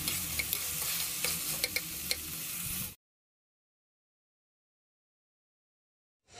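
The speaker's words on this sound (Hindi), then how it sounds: "प्याज और ये शिमला मिर्च और मिर्ची को है ना अच्छे से तेल में तलेंगे" Onion, capsicum and chilli fry in oil, a steady sizzle with sharp clicks of a spoon stirring the pan for about three seconds, then silence.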